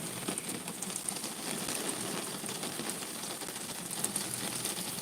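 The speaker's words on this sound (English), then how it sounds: "Rain's coming in. Can you guys hear the rain?" Steady rain falls and patters on a surface outdoors, a constant, fairly quiet hiss without a break and without voices.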